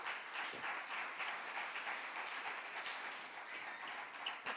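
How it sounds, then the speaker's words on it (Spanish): A church congregation claps and applauds for God during a Spanish-language sermon, a dense, continuous roar of many hands at moderate distance, sustained evenly throughout with no talking. "Dale un aplauso gigantesco a Dios"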